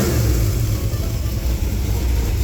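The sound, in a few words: 355 small-block Chevy engine running with its cam, Firebird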